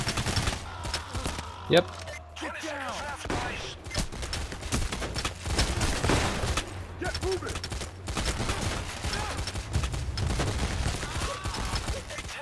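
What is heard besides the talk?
gunfire in Payday: The Heist video game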